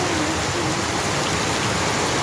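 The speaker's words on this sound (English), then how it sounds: "Very big rain." Heavy rain pours down in Nyahururu town, a dense, loud, unbroken hiss of falling water with no talking.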